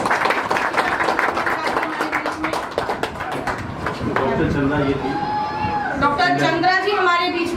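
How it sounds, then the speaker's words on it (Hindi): An audience at a blind welfare association award function applauds, a brisk patter of many hands clapping at first that gives way to someone speaking over a microphone while the crowd quiets. "निता जी मौजूद हैं और ये कुछ समय पे मौजूद थे, इनके लिए जोरदार तालियां।"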